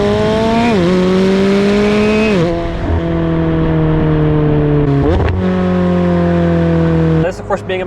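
A McLaren 720S Spider sports car accelerates hard from inside the cabin, its engine note climbing through several sharp gear changes with loud rising revs, ending in a brief lift-off.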